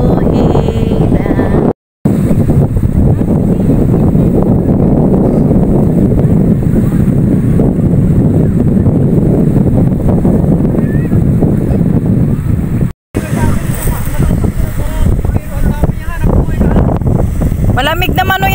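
Strong wind buffets the microphone in a constant roar for the whole stretch, drowning out everything else, with a couple of brief dropouts.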